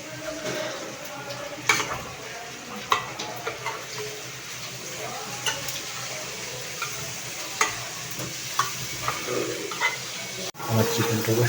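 Pieces of chicken sizzle and get stirred in a hot pan, with a steady frying hiss broken by regular scraping and clattering strokes of the spoon, heard close up.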